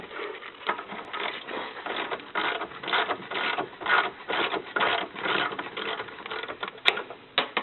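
Lower brake caliper bolt on a Sprinter van being loosened with a tool, heard as a rapid rattling, ratcheting mechanical chatter in uneven bursts, fairly close and continuous, with no talk.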